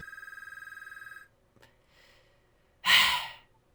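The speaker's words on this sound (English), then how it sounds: "the phone's ringing" A telephone bell rings in a steady rapid trill for just over a second, then stops; a faint breathy noise and a loud burst follow, with no talking.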